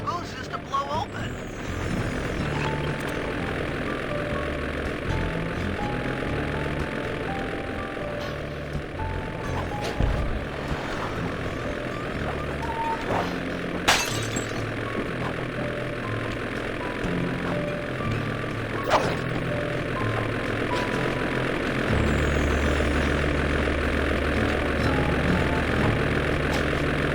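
Airplane engine in the video game Sly 2, a steady droning hum that runs through the whole scene beneath other game sounds and occasional voices.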